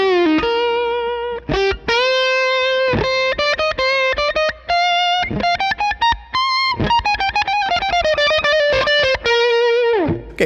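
A distorted electric guitar through a Line 6 Helix amp and cab model plays a melodic lead line with sustained, singing notes and quick phrases, heavily processed with a thick amp tone.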